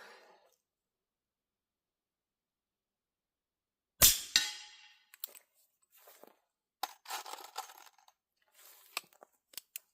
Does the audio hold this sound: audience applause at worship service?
no